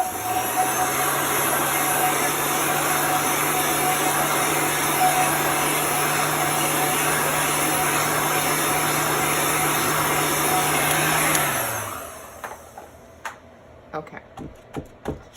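A heat tool blows steadily, drying chalk paste on a crafting surface. The loud, constant whoosh carries a low hum, then cuts off near the end, leaving a few faint taps and clicks.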